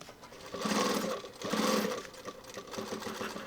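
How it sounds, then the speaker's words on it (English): An industrial sewing machine stitches through multiple layers of a technical kit with an elastic webbing and gussets, running in two loud sustained bursts with a short pause between, then a softer steady run. "I always want to be checking every layer that we're sewing through here."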